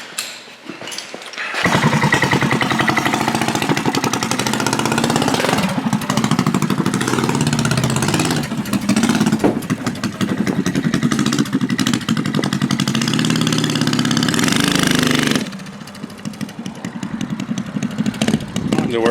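A 420cc Rupp minibike engine fitted with a new 780 torque converter roars close up on a test ride, revving hard and holding a loud steady drone before dropping back toward idle near the end.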